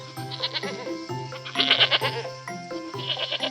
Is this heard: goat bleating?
yes